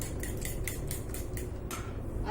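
A spoon beats egg batter in a bowl with quick, rhythmic metallic clinks, about eight strokes over a steady low background hum, heard up close.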